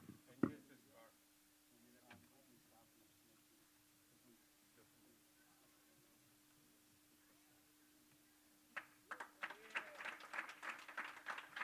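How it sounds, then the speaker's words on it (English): An audience claps at a Jain community center gathering in Southern California, starting with a few scattered claps and building into sustained applause near the end, after a long quiet stretch with a steady hum. "Let's give an applause for Meera Ben"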